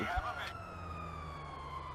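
A police car siren wails in the video game GTA 5, one rising and falling electronic tone that holds steady after a short opening sweep.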